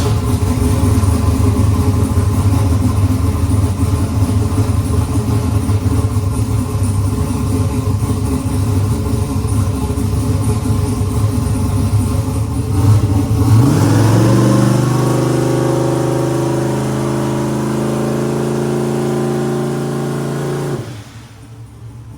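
A 5.3 V8 engine fitted with a large-frame 88mm turbo runs loud and steady, then its revs climb sharply in a rising pull before dropping off abruptly near the end, heard close with no talking.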